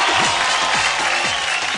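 Studio audience applause greets Mithun da, grand master of the Dance India Dance stage show, a steady dense wash of clapping running through the whole moment, with faint rising and falling tones riding underneath.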